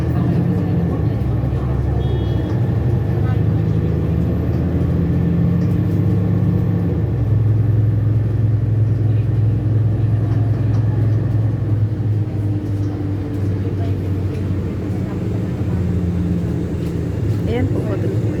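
Bus driving through city traffic, a steady low engine rumble from inside that shifts pitch partway through, with someone talking over it throughout.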